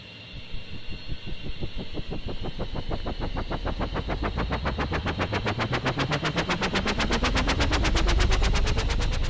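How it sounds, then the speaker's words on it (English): Helicopter engine starting up in the Minecraft video game, a rapid rhythmic chopping whine that speeds up steadily as the rotor spins faster, loud and continuous with no talk over it. "Just gonna go ahead and start the engine right here."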